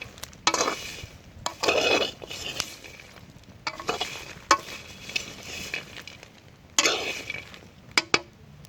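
Cocoa beans roasting black in a pot are scraped and stirred in repeated bursts, with faint popping and crackling between the scrapes, close up and without speech.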